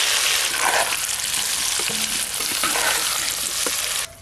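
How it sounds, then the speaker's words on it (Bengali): Potatoes frying hard in hot mustard oil, with a steady, loud broadband sizzle that runs throughout and a few soft stirring scrapes and clinks against the pan. "তাই আলুগুলো খুব ভালো করে ভেজে নেব"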